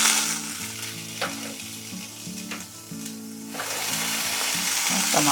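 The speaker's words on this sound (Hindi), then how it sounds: "गाजर डालेंगे और अच्छे से भूनेंगे। अब हम इसमें मटर के दाने डालेंगे" Carrots and peas frying in a pan for vegetable daliya, a steady close sizzle with occasional stirring scrapes and clicks throughout, no voices.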